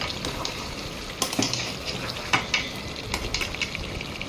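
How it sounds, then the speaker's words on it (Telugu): Soaked rice stirred into a pot of boiling curry, giving a continuous bubbling sizzle broken by several close scraping knocks of a spoon against the pot, with no one speaking. "నేను శుభ్రంగా కడిగి పెట్టుకొని 1 గంట సేపు నానబెట్టుకున్న రైస్ దీంట్లో వేసి తిప్పుతున్నాను"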